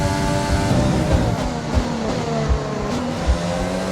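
F1 race car engine in the F1 2020 video game, a loud, sustained high-pitched whine with shifting tones as the car moves along the track, with a few low thumps.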